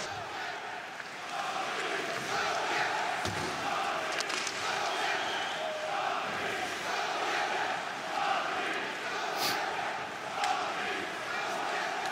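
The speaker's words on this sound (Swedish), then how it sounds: "Och då är det Oskarshamns klacken som jublar högt." Ice hockey supporters of IK Oskarshamn roar and cheer loudly in the arena during a Swedish SHL game against Växjö Lakers, a dense sustained crowd din with bursts and a commentator's voice mixed in.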